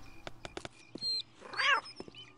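A cat in the video game Postal 2 lets out a strained, wavering meow amid sharp clicks and game sound effects, heard fairly faintly and without anyone talking.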